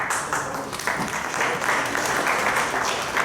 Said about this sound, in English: Can we have our applause, ladies and gentlemen? Please put your hands together.